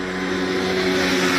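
A motorbike speeds past a shop at night, giving a loud, steady engine roar across the whole short moment.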